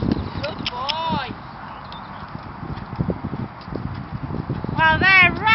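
Young horse in a slow canter on an arena, soft rhythmic hoofbeats close by while a rider and trainer talk over them, with a couple of brief squeaky whistling sounds.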